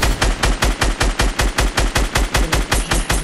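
Rapid automatic gunfire in the Fortnite Battle Royale video game, a loud, steady burst of evenly spaced shots lasting several seconds with no voices over it.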